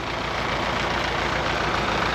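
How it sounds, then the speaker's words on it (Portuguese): Tractor engine running close by on a farm among greenhouses, a continuous heavy low rumble that holds steady throughout the short stretch with no talk. "Pessoal aqui passando de trator."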